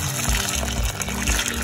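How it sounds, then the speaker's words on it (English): Hot water poured over chestnuts in a bowl, a continuous loud gushing splash of liquid, close and uninterrupted, with no talking. "Now I'm going to add some hot water"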